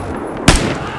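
A single sharp gunshot in the video game Battlefield 4 cracks out loudly in the middle, with a short trailing echo over a constant background hum.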